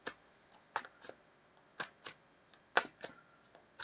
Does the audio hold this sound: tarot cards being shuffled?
yes